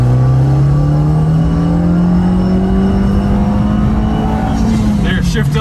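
A used car engine with a 5-speed gearbox revs hard and loud toward the red line, its pitch climbing steadily before dropping sharply at the upshift, heard from inside the cabin.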